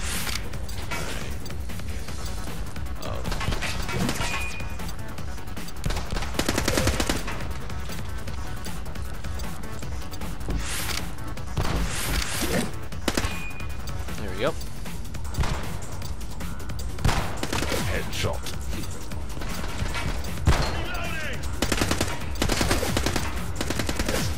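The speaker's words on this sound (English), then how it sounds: "Bullets are flying." Gunfire in the shooter video game The Club, with dense bursts of rapid automatic fire and single heavy shots crackling one after another almost without pause, loud and continuous.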